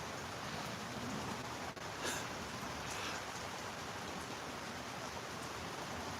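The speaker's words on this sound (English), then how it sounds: "Can you hear the rain?" Steady rain falls outside as a constant dense hiss with no clear breaks, fairly quiet and even throughout, with no voices.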